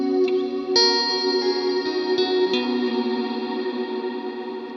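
Guitar through a Meris Mercury 7 reverb pedal, a few plucked chords blooming into a lush, shimmering reverb wash that sustains and slowly decays, with fresh strums layered in.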